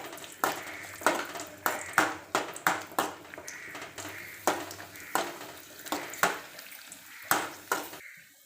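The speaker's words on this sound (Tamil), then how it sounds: "இது போட்டு நல்லா பொரிச்சு எடுத்துக்கலாங்க." A spoon stirs cashews and raisins frying in coconut oil in a pan for black kavuni rice payasam. Repeated scraping and clinking sound over a faint sizzle, close and fairly quiet.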